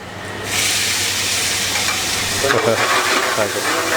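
Tomato and masala frying for paneer masala in a restaurant kitchen, a loud, close sizzle that swells in after a brief quiet start, with stirring scrapes and a low hum underneath.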